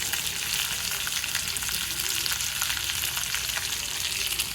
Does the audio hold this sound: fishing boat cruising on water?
no